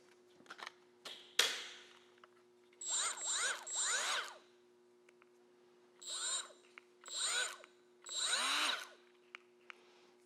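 A Milwaukee M12 FUEL right angle die grinder fitted with a 3M Roloc adapter, run on a half-charged battery: a few short clicks, then repeated high whining bursts of about a second each, spinning up and down, close by with no voices.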